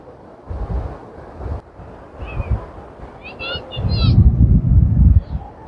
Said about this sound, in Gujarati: આ દરિયો કિનારો છે પણ પાણી અહીં થોડુંક નજીક છે